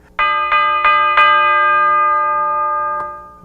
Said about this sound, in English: And then I added a bell.